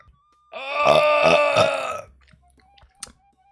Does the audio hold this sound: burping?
yes